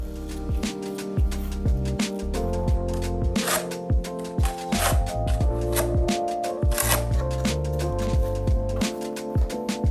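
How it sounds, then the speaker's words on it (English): Sharp, close scissor snips cut into a plastic inside corner piece for shower waterproofing in quick irregular bursts, heard over soft background music. "We're just gonna snip it off with our scissors about 1/4 of an inch."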